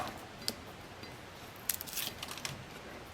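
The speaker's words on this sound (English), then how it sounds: "if you take the tip of your scissors, it's much easier" Scissors snip through paper while a spinner card is being made: a few faint, quick cuts and ticks, mostly bunched in the second half, quiet and close with no talking.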